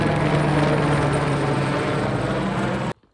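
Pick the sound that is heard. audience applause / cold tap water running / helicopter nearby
helicopter nearby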